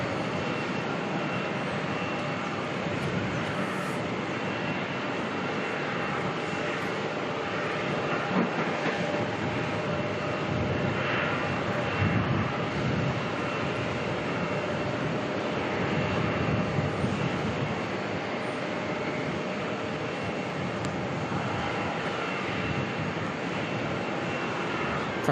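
An Airbus A350-1000ULR taxis at Melbourne airport, its engines giving a steady, loud broadband roar that holds level with no break and no voices.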